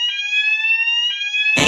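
A fire alarm going off indoors, a loud shrill electronic tone sounding in two sustained pulses, close and piercing, ending in a sudden burst of broadband noise.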